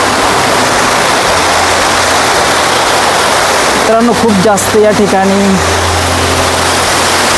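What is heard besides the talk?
waterfall cascading down in the Sahyadri mountains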